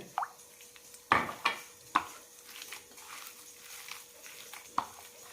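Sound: adding a little water to mashed flattened rice

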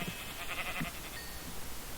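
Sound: sheep bleating in Minecraft video game

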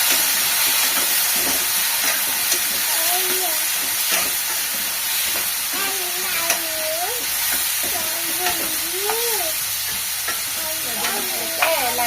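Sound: lightly frying peanuts and tomatoes in hot oil

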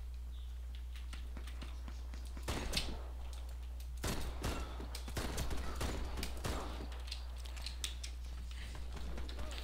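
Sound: Mateba autorevolver gunshots in video game Warface

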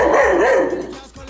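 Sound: dog barking

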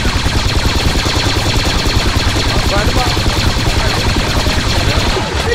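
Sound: gunfire in Squad video game, Battlefront mod

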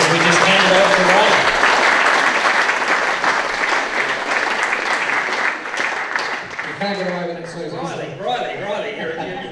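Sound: audience applause at a talent show

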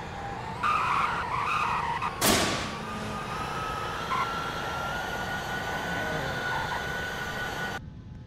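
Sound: BMW drag racing with skidding tires in a video game

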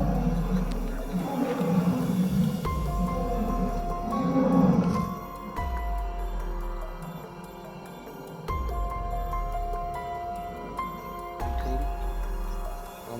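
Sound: lion roaring

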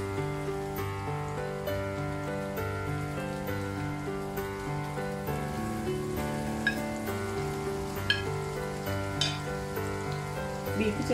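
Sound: beef frying in hot oil

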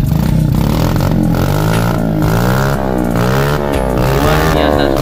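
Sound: Suzuki Smash 110cc mini trail motorcycle engine revving

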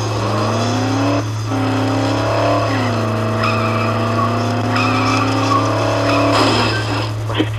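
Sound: car skidding while driving in video game Dead Island

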